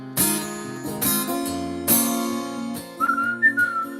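A person whistles a short melodic phrase imitating the whistle on a record. It comes in over sustained instrumental chords, clear and close, with a few rising and falling notes near the end.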